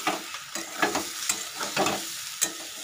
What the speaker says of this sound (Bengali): তো বাঁধাকপিটা আলু দিয়ে ভাজা হবে